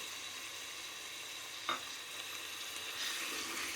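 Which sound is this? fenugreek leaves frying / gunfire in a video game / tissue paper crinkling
fenugreek leaves frying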